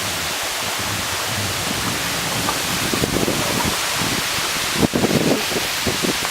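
Steady broadband rush of a waterfall in West Virginia, constant and fairly loud, with a brief louder gust or splash near the end.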